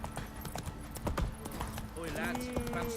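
Hooves clip-clop at a walking pace from a horse in The Witcher 3, a soft, irregular patter with a brief whinny-like tone near the end, while someone talks over it.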